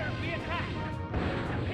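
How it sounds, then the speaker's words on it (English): Zap Cannon attack landing in Pokemon Stadium 2, a short electric crackling crash with wavering buzzy tones, close and loud over the game's background sound. "Zap Cannon finally hit."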